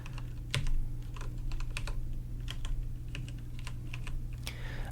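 Steady, rapid typing on a computer keyboard, a quick patter of key clicks over a low background hum.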